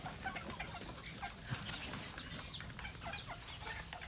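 Free-ranging native Thai bantam chickens cluck and chirp in scattered short calls at moderate distance, several birds overlapping against soft outdoor background.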